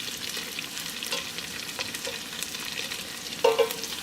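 Vegan sausage browning in a pot for Tuscan soup, stirred with a utensil: continuous sizzling crackle with scraping strokes and a louder clatter near the end, no voices.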